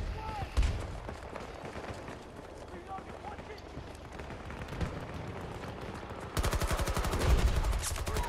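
Rapid hip-fired automatic gunfire in the Battlefield game, set at Arica Harbour, crackles in scattered bursts and then becomes a dense, loud stream near the end, under a player's talk and background game noise.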